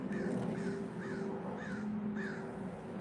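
A crow caws five times at a steady, even pace, fairly distant over a constant low background hum, with no voices.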